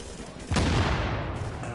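A grenade blast in The Division video game hits suddenly and stays loud as a broad burst of gunfire and explosion noise, with no voices in the clip.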